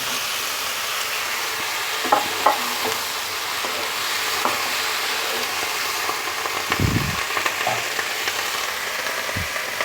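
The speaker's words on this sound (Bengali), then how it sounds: "আমার মশলাটা কষানো হয়ে গেছে, এখন আমি কেটে রাখা সবজিগুলো এর মধ্যে দিয়ে দিচ্ছি।" Chopped flat beans (shim) frying in cooked spice paste for a fish curry, with a steady sizzle and scattered scraping stirs and clunks, close and continuous, no one talking.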